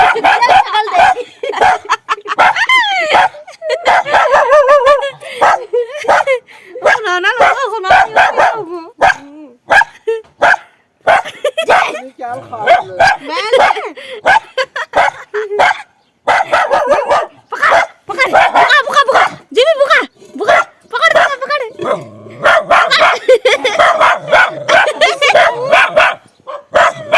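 A pet dog barks in a kitchen at home, with repeated sharp yips and excited barks coming close and loud for the whole stretch, mixed with whimpers and snickers, while people talk and laugh over it.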